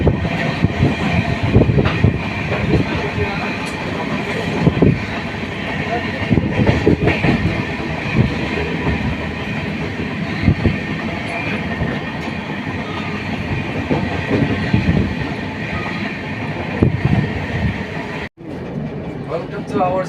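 Train heading to Kamakhya railway junction, heard from inside as a steady rumbling rail noise with faint clatter, people talking nearby throughout.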